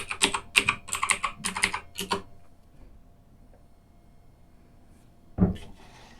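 Someone types a username and password on a computer keyboard: a quick run of close, crisp key clicks for about two seconds, then quiet, then a single firmer keystroke, with no talking.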